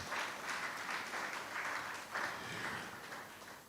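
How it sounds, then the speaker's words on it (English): Faint applause from an audience at a formal oil and gas industry report presentation, a soft, even patter of clapping that swells in small waves and carries on for several seconds. "Please, let's give him a round of applause."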